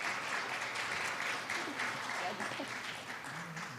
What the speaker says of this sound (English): A big round of applause for my musicians here.